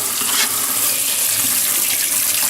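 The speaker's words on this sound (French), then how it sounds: "un rinçage tout simplement à l'eau claire" A Duomishi Technology multi-function mandoline slicer rinsed under clear running tap water: a loud, close, continuous rushing splash of water on plastic and metal for the full stretch, with no voices.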